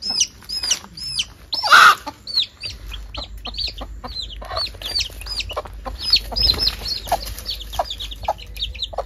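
A mother hen clucks up close while her chicks peep repeatedly in high, rising chirps, the calls overlapping in a busy, lively flurry on a farm.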